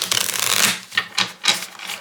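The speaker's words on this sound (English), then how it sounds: "Let me shuffle again because that is an awful lot of wands." Papery rasping and riffling of cards in quick, uneven swipes, close up, each shuffle a soft brushing burst.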